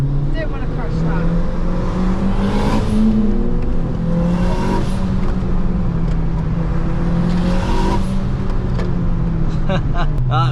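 A 500bhp Honda Civic FN2 Type R running on high boost while racing, its engine drone loud and continuous with repeated rising pitch sweeps as it accelerates through the gears, heard from inside the car.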